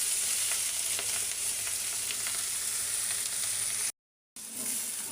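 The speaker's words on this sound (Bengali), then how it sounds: "আর এটা এখন উল্টে উল্টে ভেজে নিচ্ছি তেলে" Bitter gourd frying in oil sizzles steadily and close up while it is turned over, with a brief break in the sound near the end.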